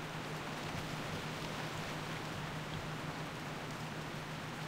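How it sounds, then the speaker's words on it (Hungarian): Heavy rain falls in World of Warcraft Classic, a steady, even hiss of downpour that stays constant and alone throughout. "most itt a nagy esőzésbe"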